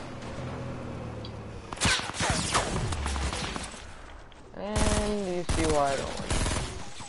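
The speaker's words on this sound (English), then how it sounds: "Oh, they're shooting at us." Rapid enemy gunfire in Fortnite, several crackling bursts of automatic shots at mid distance mixed with game effects and rising whooshing tones, while a player briefly speaks over the action.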